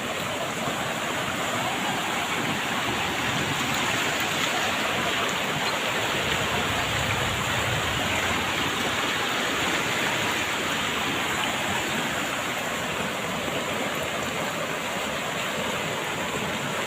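Heavy rain and rushing floodwater in a village in Bhavnagar district, Gujarat, after two to nine and a half inches of rainfall, with river water flowing into the village, a continuous loud broadband roar of water throughout.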